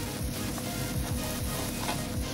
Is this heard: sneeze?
no